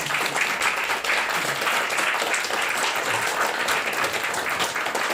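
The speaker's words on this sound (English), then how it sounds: "take a round of applause" Audience applause at a live comedy show at Chunky Fringe 2023, a dense, continuous wash of many hands clapping at even loudness throughout, with no talking over it.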